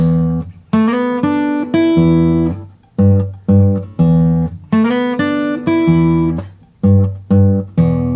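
A blues guitar riff played alone with no drums, short repeated phrases of plucked notes and chords with brief gaps between them, clear and up close.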